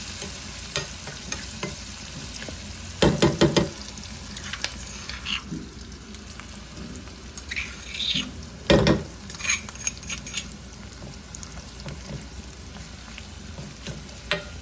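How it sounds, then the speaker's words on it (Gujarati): Sliced onions and ground spice masala roast in a pan, a steady low sizzle broken by a few louder stirring and scraping bursts, with no voices. "હવે મસાલો જ્યાં સુધી સરસ શેકાઈ ના જાય ત્યાં સુધી આપણે એને થવા દઈશું।"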